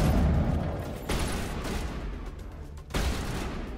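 Gunfire in the Mass Effect Legendary Edition video game, a dense burst of loud shots with another sharp volley near the end, no talking.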